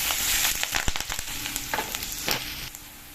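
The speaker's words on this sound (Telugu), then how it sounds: "ఉల్లిపాయ ముక్కలు, ఒక పచ్చిమిర్చి వేస్తున్నామండి." Onion pieces and a green chili dropped into hot oil for makhana gravy, a loud, close sizzle with scattered crackles and pops that slowly settles, with no talk.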